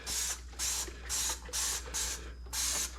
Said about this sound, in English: I'm going to be using the Dawn Power Wash because you can spray